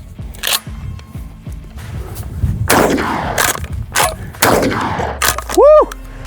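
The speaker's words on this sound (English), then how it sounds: "now we are going to run the ATI Double Up Buck 9 pellet" A McCoy PAS pump shotgun fires ATI Double Up Buck pellet loads, with several loud sharp blasts spaced across the clip and a closing clatter and ring of the action being worked.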